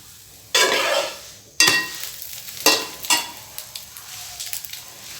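French toast fries in a buttered pan. Several loud, close bursts of sizzling flare up in turn, each dying down into softer crackles and pops, with no talking.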